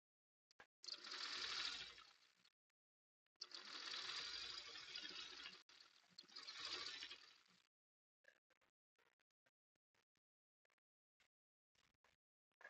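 A sewing machine stitches a log cabin quilt seam in three steady running bursts, fairly quiet and close, followed by scattered light ticks and clicks as the work stops.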